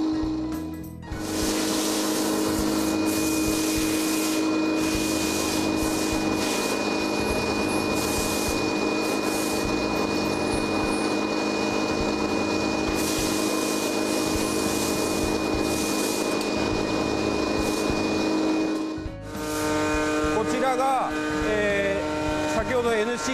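Wood being shaped by hand-guided machining with a mounted cutting blade in a woodworking shop, a steady loud grinding, rubbing drone running continuously for about eighteen seconds before briefly dropping off and resuming.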